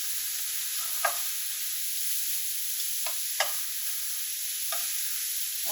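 Shrimp sizzle in garlic butter in a pan at home, a steady frying hiss running throughout with a few sharp clacks as the pieces are flipped, close and fairly loud, with no voices.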